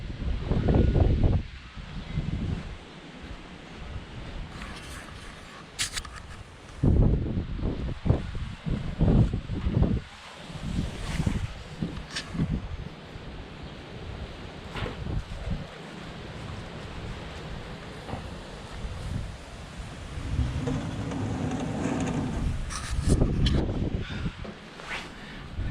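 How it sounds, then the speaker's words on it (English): Strong, gusty wind in the aftermath of hurricane remnants blows outside a goat barn on a misty day, a steady roar with louder buffeting gusts that come and go. "It's mighty breezy out there."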